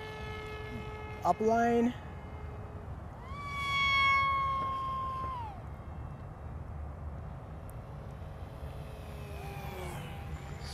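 A SkySurfer Pro radio-controlled plane's electric motor whines at full throttle, the tone sweeping up and then down as it passes overhead at a distance, fading into a softer drone, with brief talk near the start.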